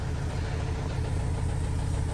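Diesel engine of a 2012 Volkswagen Golf 6 1.6 TDI automatic idling roughly, a steady, loud, close rumble with no one speaking.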